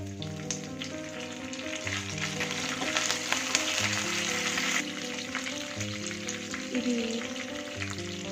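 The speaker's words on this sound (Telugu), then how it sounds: "ఇవి కొంచెం వేయించుకున్న తర్వాత ఎండుమిర్చి, అలాగే కరివేపాకు" Dried red chillies and curry leaves crackle and sizzle in hot oil in a pan after mustard and cumin seeds, a continuous close frying hiss with light stirring, no voices.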